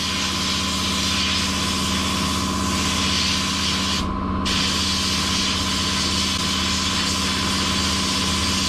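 A sandblasting cabinet strips paint from a Datsun 240Z hinge, a loud, constant roaring hiss over a droning compressor hum, with one brief dip where the blast pauses, and no speech.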